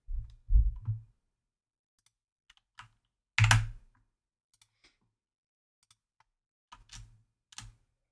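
Typing on a computer keyboard, scattered clicks and short bursts of keystrokes with a louder cluster in the middle and long quiet gaps, close and clear with no talking.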